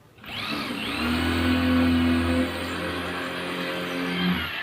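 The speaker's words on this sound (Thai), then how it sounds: "เริ่มต้นก็ เจาะ ไปที่กำแพงนะครับ" A masonry drill bores into a wall, whining steadily at close range, a sustained motorized hum with a rising pitch, running continuously for several seconds before easing slightly near the end.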